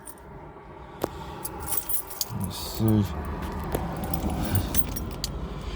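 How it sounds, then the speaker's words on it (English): Keys for a 1991 Nissan Figaro jangle in a few brief metallic clinks near the mic, over a low room hum, while someone speaks a couple of words. "Just looking for the keys."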